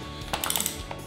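Torque wrench tightening bolts on a motorcycle steering damper, giving a brief run of light metallic clicks and ratchet ticks, close and quiet.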